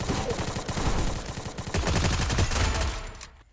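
Rapid bursts of video game gunfire ring out loud and dense through a match, close-range shots in quick strings with no talk over them.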